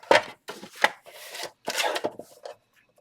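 A craft blade or trimmer cuts the front edge off a folded card base, heard as short close scraping and slicing strokes in irregular bursts with brief pauses between.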